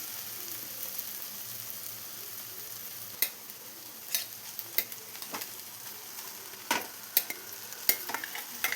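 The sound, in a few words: cooked rice stir-fried with egg masala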